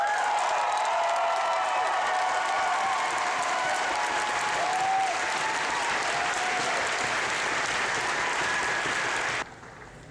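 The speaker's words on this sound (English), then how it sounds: "Let us cheer for Tony Stark." A crowd applauding and cheering at a Masters Round costume contest at Emerald City Comic Con, sustained, dense clapping that holds for about nine seconds and then drops off abruptly.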